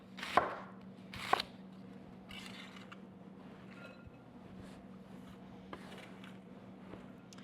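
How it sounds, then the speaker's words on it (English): A knife slicing through a purple cabbage on a cutting board, with two sharp crunching chops early on, then quieter scraping and faint handling noises over a low steady hum. "Then we just slice down again, processing through this whole cabbage."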